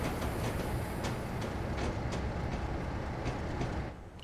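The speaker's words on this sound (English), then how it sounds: "So we've got some wheel slip" Coal train wheels slipping on a snowy Mirco Island run in Train Simulator Classic, a steady loud rumble of rolling stock with repeated faint clanks and squeals before dropping quieter at the end.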